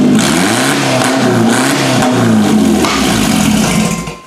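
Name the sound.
2011 Subaru Outback with headers, engine revving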